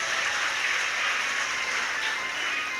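Steady, dense applause fills a Shiv Mahapuran katha gathering, a continuous wash of many hands clapping together without a break.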